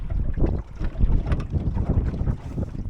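Strong wind buffets the microphone aboard a sailboat out on the water, a continuous loud rushing roar with gusty surges and no pauses throughout.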